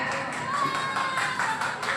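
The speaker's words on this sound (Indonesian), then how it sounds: "Beri tepuk tangan yang meriah" A school crowd claps warmly at a Maulid Nabi Muhammad celebration at an Islamic junior high, a continuous steady patter with faint cheering mixed in, sustained throughout.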